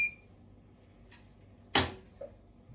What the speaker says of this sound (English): that's the sound of the door locking